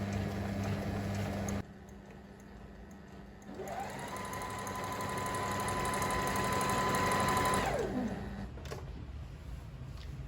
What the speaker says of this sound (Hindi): जैसा कि आप देख रहे हैं कि मशीन स्टार्ट हो गई है